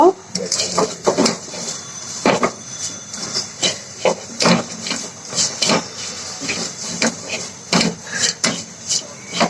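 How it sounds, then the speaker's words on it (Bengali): Fried flattened rice (chira) being stirred and mixed in a pan, with repeated scraping and clattering of a utensil against metal in an uneven rhythm, close by, while someone talks. "এখন আমি ভেজে রাখা চিরাটা দিয়ে দিব। ভালো করে মিশিয়ে নিব।"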